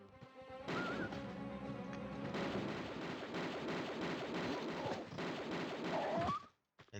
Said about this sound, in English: I am going to use my automatic pistols because there are multiple enemies in this area that we want to be able to deal with as quickly as possible.